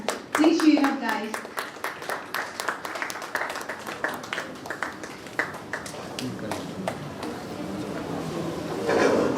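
Scattered audience clapping for students at a student startup pitch event after a summer camp, with distinct individual claps that start strong and thin out into sparse claps, while a voice talks over parts of it.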